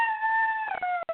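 A dog howls in a long, steady, close and loud tone that wavers and breaks up near the end, with no talk over it.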